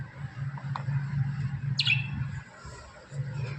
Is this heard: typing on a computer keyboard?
no